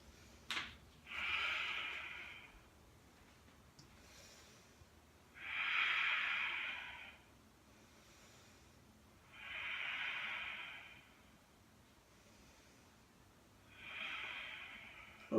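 Heavy breathing comes from a person holding a yoga plank, with four long, forceful, audible exhales spaced a few seconds apart and quiet stretches between them.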